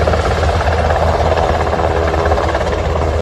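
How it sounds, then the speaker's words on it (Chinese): A National Airborne Service Corps rescue helicopter on a mountain hoist mission near Dashuiku in Hualien drones loudly and continuously with a steady engine and rotor roar, close and unbroken for several seconds before cutting off. "空勤总队直升机起飞执行空针吊挂"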